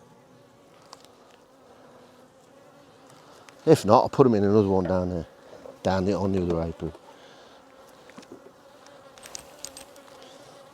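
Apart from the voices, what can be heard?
honey bees buzzing around a hive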